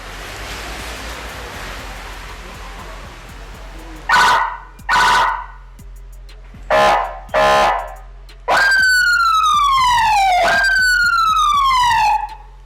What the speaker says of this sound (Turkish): Aracımıza profesyonel siren ve çakar uyguladık.